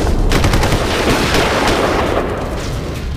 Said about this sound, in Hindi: अंधाधुंध फायरिंग की।